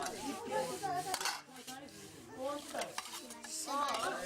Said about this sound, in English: After dinner, the girls do the dishes.